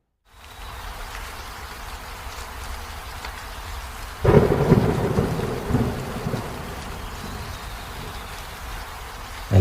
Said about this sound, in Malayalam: നല്ല മഴ വരുന്നു, വാ.